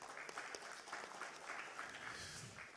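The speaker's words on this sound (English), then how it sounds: "A round of clap for the panelists," Applause for panelists at an insurance awards event, a faint, steady patter of many hands clapping at a distance, sustained throughout.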